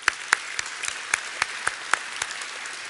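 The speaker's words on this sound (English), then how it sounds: "So if you give me a little bit of applause for in absentia" Light, scattered applause from a modest audience at an academic awards ceremony, individual claps distinct and uneven, moderately near.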